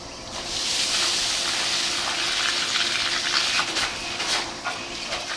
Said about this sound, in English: The first thing I like to do is put about 20 gallons of water in the receiving hopper.